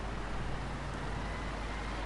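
Truck engine in SnowRunner with revs being applied, a steady broadband engine roar with a slight swell early on, continuous and close with no voices.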